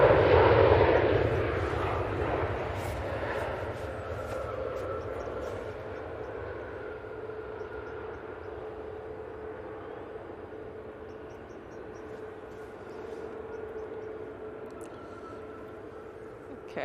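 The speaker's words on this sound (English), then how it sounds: "Looked like they tipped the right wing down a bit there just before touchdown." A plane touching down at Manchester Airport, the engine noise loudest at the start and then slowly fading into a long, softer rumble with a lingering tonal whine as it rolls away.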